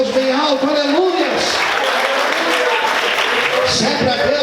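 A church congregation applauding during a sermon, sustained crowd clapping mixed with voices and shouts of praise.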